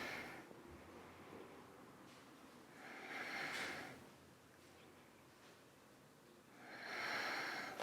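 Slow, deep breaths held in a vinyasa yoga pose, two soft, airy exhalations a few seconds apart over a quiet room, close and gentle.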